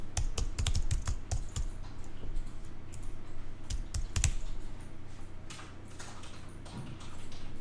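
Typing on a computer keyboard while naming a new layer in Adobe InDesign 2017, a steady run of close, crisp key clicks with a few louder presses, heard alone without talk.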